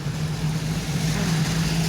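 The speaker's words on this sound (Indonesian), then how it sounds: "arus lalu lintas lancar, didominasi mobil-mobil besar" Steady road traffic with heavy vehicles rolling past, a constant low engine drone with a persistent hum and no distinct horn or voice, loud and continuous throughout.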